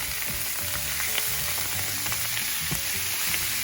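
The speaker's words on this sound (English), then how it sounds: "And I'm gonna add the beef. Stir that around in there, get that a little bit browned." Beef browns with onions in a hot pan, a loud, constant sizzle close by with scraping clatter from the stirring spoon.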